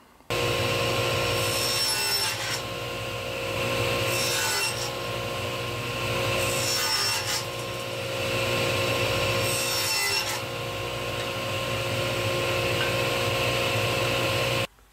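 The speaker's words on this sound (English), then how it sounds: "we're going to take this back over to the table saw." A table saw makes 45-degree miter cuts in cherry stock for a tile trivet frame. A steady motor whine runs throughout, with several louder bursts as the blade passes through the wood. Nobody speaks.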